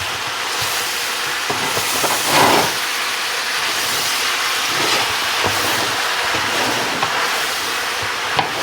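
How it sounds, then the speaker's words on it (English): Steady broadband sizzle from a hot skillet as chop house chops and ingredients are stirred down onto the bottom, holding a constant hiss with faint scraping clinks throughout, no voices. "you can hear the pan cool down as they're going down on the bottom"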